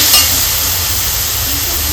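Masala and onions stirred and fried in a pan for a stuffed chicken dish, a loud, continuous broadband sizzle and hiss with a low rumble beneath, close and unbroken.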